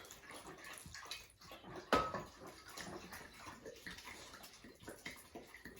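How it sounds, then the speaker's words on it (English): Wine poured into a pot around a pot roast, giving a steady liquid splashing and gurgling that runs through the clip, close and moderately loud, with a brief louder burst partway. "now I take the wine and I pour it around the pot roast"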